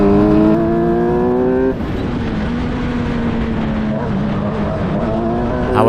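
F3 and F1000 race cars scream past on the Silverstone GP circuit, a loud high-revving engine note dropping sharply as one car passes, followed by a sustained droning roar of several cars on track.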